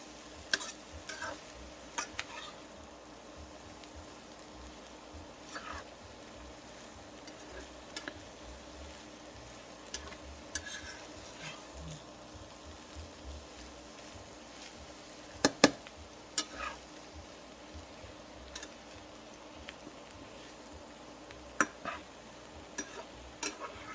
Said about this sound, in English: Let it all cook up together.